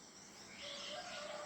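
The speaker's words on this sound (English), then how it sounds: "to listen their chirping, twittering, singing." Birds chirp and twitter outdoors, faint and distant, with light tweets layered over a soft background hum and insect-like buzzing.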